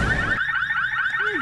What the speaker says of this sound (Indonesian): membuat alarm pintu tersebut berbunyi sangat keras